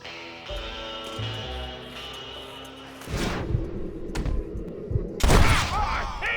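Gunshots in the video game Red Dead Redemption: sharp loud cracks, one around the middle and a bigger blast near the end, over a low rumble and background music.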